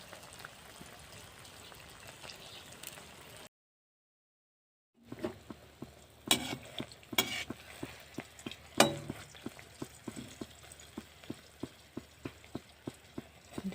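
Tel pitha fries in hot oil with a soft, steady sizzle. After a short silence, louder crackling returns with sharp pops that settle into regular, evenly spaced spattering ticks close by.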